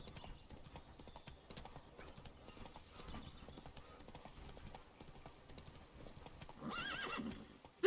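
In The Witcher video game, a horse gallops with steady, rapid hoofbeats on the ground, mixed with occasional neighs and game ambience, fairly faint throughout with a louder rush near the end.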